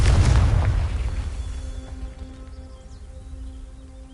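A Confringo spell blast in Hogwarts Legacy bursts loudly at the start as a deep boom, then rumbles and fades over a few seconds beneath steady game ambience.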